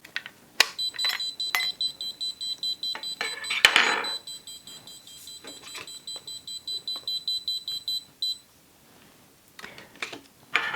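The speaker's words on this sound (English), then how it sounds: "when removed, it will continuously beep and flash red until either the correct passcode or an NFC card is used to silence it" A SwitchBot Keypad Touch sounds its tamper alarm after being pulled from its wall backplate, giving repeated sharp electronic beeps in close succession, loud and near, interleaved with handling clicks and knocks.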